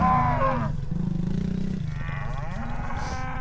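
Loud, drawn-out cattle moos, one long low call after another, close by with no talk over them.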